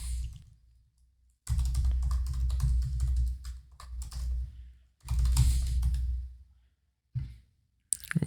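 Typing on a computer keyboard while writing Angular code, with bursts of quick clicking keystrokes in two main runs separated by short pauses, close and clear with no talking.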